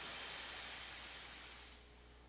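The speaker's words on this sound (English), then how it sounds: "Thomas is wheeshing out steam." Thomas the Tank Engine, a steam locomotive at a station, lets out a steady, loud hiss of steam that eases off slightly near the end, with no voices.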